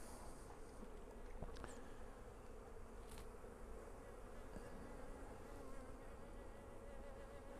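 Nurse honey bees in an opened hive being used to raise queens: a continuous dense buzzing drone, soft and close, with a few louder passing buzzes.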